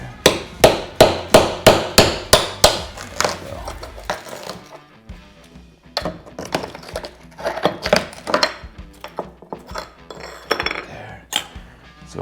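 Hammer strikes drive a chisel to chip out a broken tile, a steady run of sharp metallic knocks at first, then more irregular taps and scraping as the pieces break loose.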